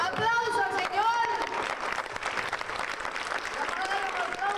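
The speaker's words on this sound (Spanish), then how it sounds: "¡Un aplauso al Señor!" A church congregation applauds, dense clapping rising under a voice that speaks and calls out over it, with crowd murmur.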